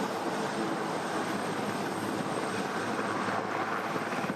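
Marine helicopters carrying the US President arrive at a UK state visit, giving a loud, steady broadband rotor and engine roar that holds throughout without breaks.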